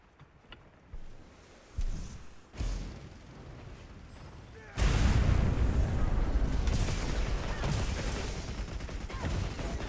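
A bomb detonates in Monster Hunter Wilds with a sudden loud boom midway, followed by a sustained rumbling roar after a couple of fainter thumps.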